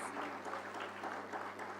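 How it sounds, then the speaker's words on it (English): Audience at an awards ceremony claps for a keynote speaker, a brief, even, moderately faint patter of applause over a low steady hum. "please give her a round of applause"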